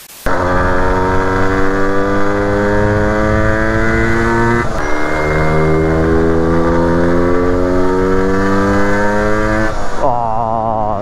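A KTM EXC 125 two-stroke dirt bike engine lugging at low revs, loud and close, with a steady buzzy drone that holds for several seconds, then shifts pitch and surges midway before easing off near the end.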